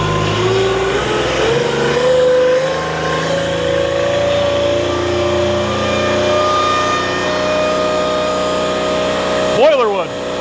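A Wolfe Ridge X 42-ton log splitter engine throttles up, a steady loud running drone that rises in pitch over several seconds, with a brief clatter near the end.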